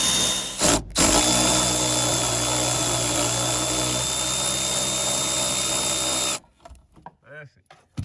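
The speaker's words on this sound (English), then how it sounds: "Got the ratchet on." A ratchet tightens coilover bolts on an R33 sedan, a loud, continuous mechanical whirr close by that runs for several seconds and then cuts off, followed by faint handling noises.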